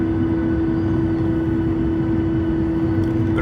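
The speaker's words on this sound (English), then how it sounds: "Wow, did you see that engine spool up? It's splashing so much water from behind." Norwegian Boeing 737-8JP with winglets spooling up its jet engines for takeoff, a loud steady roar with a strong constant hum, heard from inside the cabin and continuous throughout.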